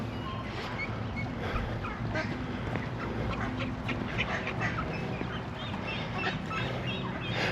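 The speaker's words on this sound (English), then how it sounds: "Lady there was feeding the ducks." Ducks and geese on a park pond honk and quack in a busy, continuous chorus while being fed, heard at moderate distance over steady outdoor ambience.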